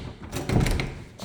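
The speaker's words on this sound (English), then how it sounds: "There's a side door. This is to some storage." A side door to a storage space under the stairs opening, a short thunk and rattle of the handle and door, close and brief.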